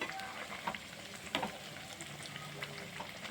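Dry red chillies, shallots, coriander, cumin and white sesame fry in oil, a soft crackling sizzle with stirring scrapes and small pops, fairly quiet and close, with no talk.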